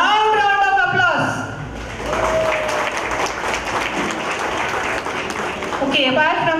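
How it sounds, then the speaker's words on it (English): An audience applauding steadily for several seconds at a mothers' contest, with a voice speaking over the start and end of the clapping. "Expect a loud round of applause"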